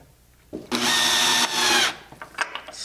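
Power driver whining as it drives a fastener through a bent angle bracket into a wooden keelson and stem during a Caledonia yawl build, two close bursts of about a second each, then faint handling clicks.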